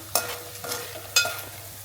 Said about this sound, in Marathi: थोडा थोडा टाकून आपण सर्वच डिंक छान तळून घेऊया